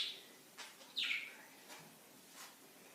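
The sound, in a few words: pet bird chirping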